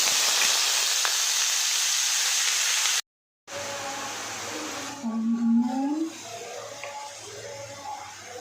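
Red amaranth greens sizzle loudly in hot oil with black cumin and dried red chillies, a bright steady hiss that cuts out briefly, then returns softer beneath wavering tonal whines.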